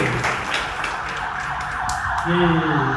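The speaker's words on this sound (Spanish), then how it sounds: "cuando pase la ambulancia, ¿cómo suenan las ambulancias aquí, verdad?" An ambulance siren wails beneath a noisy, crowded background, its tone swelling louder and clearer toward the end.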